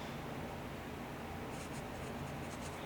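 Glass pen scratching across Maruman Mnemosyne notebook paper, a continuous faint dry rasp with brief crisp strokes toward the end, heard alone and close.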